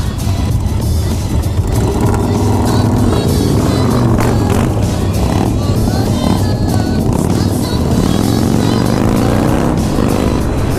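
A Harley-Davidson Sportster motorcycle rumbles close by with a loud, continuous engine drone, its pitch wavering slightly as it rides along amid wind noise.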